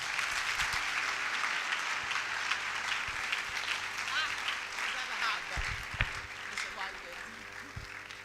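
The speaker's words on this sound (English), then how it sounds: "Another round of applause for her for sharing her story." An audience claps steadily at a breast cancer awareness durbar in Oguaa, a dense, continuous round of applause with a few louder claps near the end.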